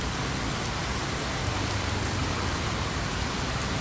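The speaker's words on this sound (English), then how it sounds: "it could rain like this for hours" Heavy rain pours down steadily in a dense, unbroken hiss of falling water with no voices over it.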